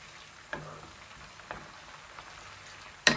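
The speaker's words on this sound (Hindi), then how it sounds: "और अब हम इसको थोड़ा सा बस भूनेंगे" Soft, steady sizzling of ginger garlic paste frying in a pan, with a few light clinks of a spoon stirring, no talking.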